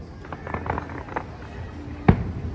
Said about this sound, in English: You can see the Epcot Harmonious fireworks right here from outside Sebastian's Bistro.